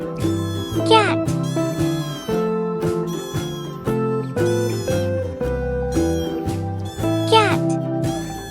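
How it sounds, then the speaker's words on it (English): Cat meowing among farm animals, two clear rising meows close by, separated by several seconds of upbeat background music, with no speech. "Cat."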